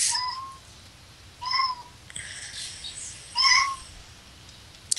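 A cat meows three times in a row, each call fairly close and clear, with brief quiet gaps between them and a soft click at the end.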